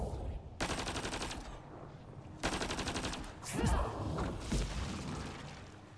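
Enemy gunfire in Mass Effect: Andromeda rattles in two sustained automatic bursts, followed by heavy impacts and whooshing sweeps, fairly close and loud.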